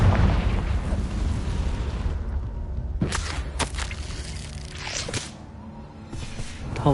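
A Confringo fire spell bursts in Hogwarts Legacy, a loud booming blast that rolls on over a rumbling background, with a few sharper crackling pops following over several seconds.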